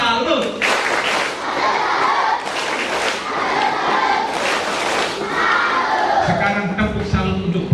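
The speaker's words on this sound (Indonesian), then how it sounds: "tepuk salut untuk Ibu Lin" Scout group at a jamboree giving a rhythmic 'tepuk salut' salute clap, loud and close, with many children clapping and shouting together in a dense crowd before a brief lower burst near the end.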